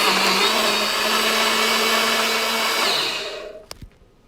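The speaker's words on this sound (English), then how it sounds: "I'm going to blend it, cover it, and blend it completely" A blender whirs loud and steady with its lid on, puréeing spicy green salsa without added liquid, then winds down and stops near the end with a couple of small knocks.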